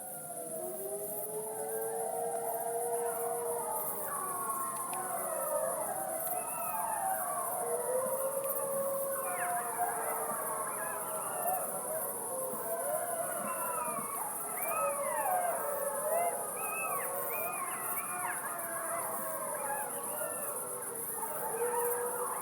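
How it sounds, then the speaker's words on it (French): A recording of wolves howling plays for a long stretch, several overlapping rising and falling howls weaving together at a steady moderate level, with no speech over them. "le loup, vous voulez écouter le loup?"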